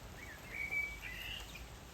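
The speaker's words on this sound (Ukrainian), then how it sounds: "Он співає дрозд." A thrush sings from a rooftop during rain, giving thin, high whistled phrases. The song sounds faint and distant over a soft, steady background hiss.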